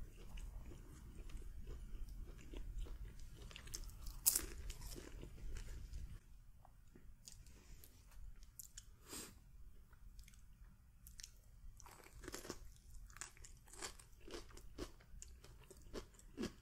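Someone bites and chews a crunchy phyllo wrap filled with feta and spinach, giving close, quiet crunches and soft mouth sounds in short bursts, with a louder crunch early on.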